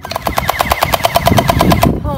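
Rapid automatic gunfire rattles in a battle royale video game, a loud, close, evenly spaced burst of about twenty shots that stops abruptly near the end.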